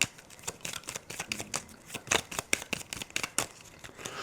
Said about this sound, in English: Shuffle our discard pile to draw our cards.